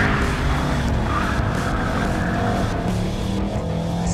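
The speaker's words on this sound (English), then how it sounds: "This does skids easier than an M2 competition and a Supra because the wheelbase is long." Tires skid and squeal on a 2021 Audi RS6 performance wagon during track testing, a continuous, loud screech with engine roar running throughout and no talking.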